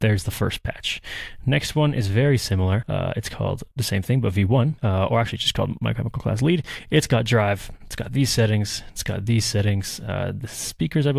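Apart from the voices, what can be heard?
None of the usual background noises is heard.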